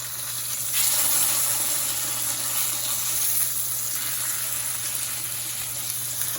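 Liver frying in about a quarter cup of hot bacon drippings, a steady broadband sizzle and hiss that swells loudly near the start and holds constant throughout, close up with no talking.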